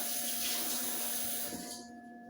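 A running tap streams steadily into a sink during handwashing, a close, continuous splashing rush that cuts off near the end.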